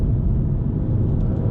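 Toyota Supra driving past as a steady low rumble of tires and engine, fairly loud and close, with no talk.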